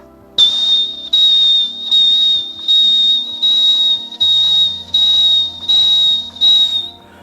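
A voice mimics a motorbike turn indicator with a long run of even, regularly spaced whistled ticks, loud and close, with no talking.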